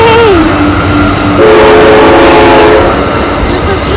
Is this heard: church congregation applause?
no